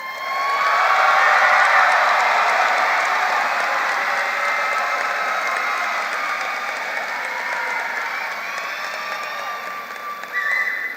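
Sustained applause from a large audience at the Theodore High School 2025 graduation ceremony, honoring summa cum laude seniors; dense, loud clapping that swells early and then stays steady for about ten seconds, with no talking.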